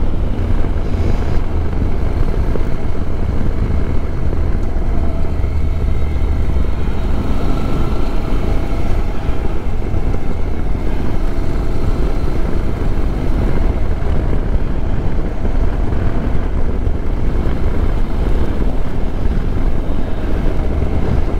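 A red Honda NC750X motorcycle rides a bendy coastal road in Catalonia, its engine a steady loud drone under heavy, constant wind buffeting on the microphone.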